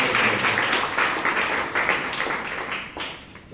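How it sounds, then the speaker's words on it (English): Sustained audience applause at a Toastmasters club meeting in Bangalore, honouring a club officer; dense, even clapping from a room full of people that slowly fades toward the end. "I think Nitin deserves a round of applause once again for excellent job."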